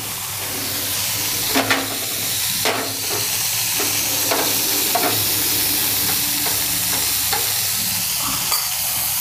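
Homemade butter heating in a pan for garlic bread pizza, a loud, steady sizzle and hiss with a few sharp clicks and scrapes of stirring.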